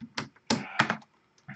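Several quick taps on a computer keyboard in short clustered bursts with brief pauses, close and clear in a quiet room.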